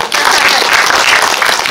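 Short, loud round of audience clapping at a film screening Q&A event, a dense wash of many hands that holds steady for under two seconds.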